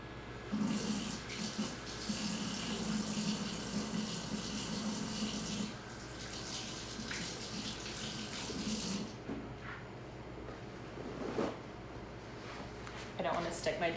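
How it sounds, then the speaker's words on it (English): Water runs steadily at a kitchen sink for several seconds while hands are washed during cookie baking, then cuts off, followed by a few brief handling clicks and knocks. "Then I'm gonna wash my hands really quick."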